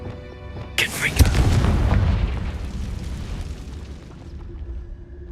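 A Confringo fire spell in the Hogwarts Legacy video game bursts with a sharp crack, then a loud, rumbling explosion that rolls on for several seconds and slowly fades.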